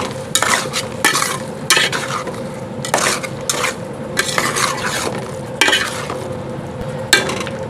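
A spoon stirs and mixes dal in a pot after lemon is added, with repeated scraping bursts and clinks against the metal over a soft background sizzle, close and without speech.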